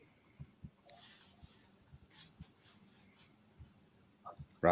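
Soft, irregular keyboard typing, light taps spread unevenly and close by, ending in a couple of louder clicks.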